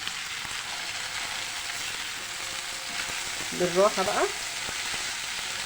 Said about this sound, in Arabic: ابتدي اضيف لها بقى البصل مع الفلفل، ونديها بقى تقليبتين